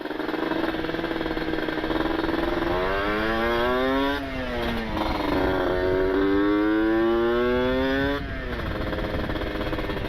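Two-stroke motorcycle engine braking on a downshift, a continuous loud buzzing exhaust note whose pitch drops, then climbs again twice as the revs rise and fall, close and alone with no talk.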